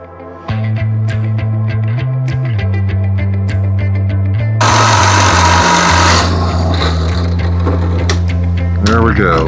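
A drill press motor runs with a steady hum that shifts pitch a few times, then a harsher, louder grinding noise joins partway through as it cuts wood.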